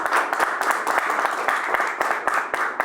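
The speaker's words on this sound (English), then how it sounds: "So let's give Logan a big round of applause" A crowd at a mayor's press conference breaks into applause, a brisk, fairly close wash of clapping hands that holds steady throughout with a few distinct louder claps.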